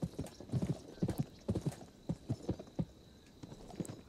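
Hoofbeats from a horse in the PS2 game Gun clop along at an uneven walking pace, clear and close, with no other sound competing.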